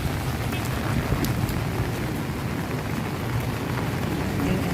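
Steady rain drums on an umbrella in Surigao City, a dense, continuous patter close overhead mixed with gusty wind noise on the microphone.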